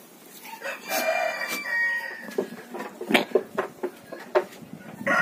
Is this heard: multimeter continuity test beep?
no